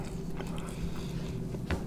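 Someone bites into a Burger King burger: soft, close crunching and chewing with faint wet clicks, quiet over a steady background hum.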